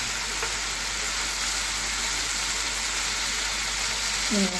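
Chicken liver frying in a pan with soy sauce gives a loud, continuous sizzle that fills the whole stretch, with a brief bit of talking at the end.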